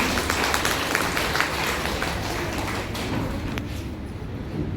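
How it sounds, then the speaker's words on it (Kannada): Audience applause at an International Women's Day event: a dense, sustained burst of clapping from a crowd, steady and fairly loud, fading slightly toward the end. "ಹೊಡೆಯ ಒಂದು ಚಪ್ಪಾಳೆ ಜೋರಾಗಿ."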